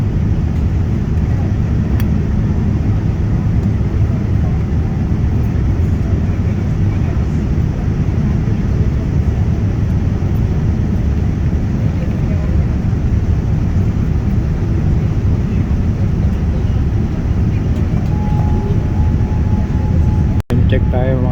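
Inside an airliner cabin just after landing at Abu Dhabi, a loud, steady low rumble of engines and air systems fills the whole stretch, ending with a brief sharp click.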